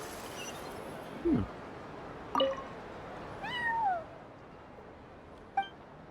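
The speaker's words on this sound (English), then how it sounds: "Ah, you are a cat." A cat meowing in the video game Genshin Impact, several short separate meows with rising and falling pitch spread out over a few seconds above quiet background ambience.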